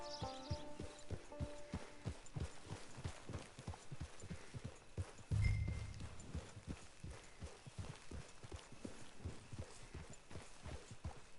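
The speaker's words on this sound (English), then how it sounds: "It's your horse." Steady clip-clop of horse hooves in Red Dead Redemption 2 Online at a walking pace, evenly rhythmic and fairly close, with a brief dull thump partway through.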